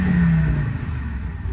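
Audi TT RS five-cylinder engine with the roof down, revving briefly: a loud, close throaty burst that drops in pitch and settles into a rumbling idle, with no talking.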